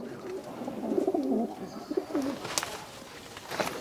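Pigeons cooing in soft, rolling bursts, fairly close, with light rustling and a few sharp background clicks.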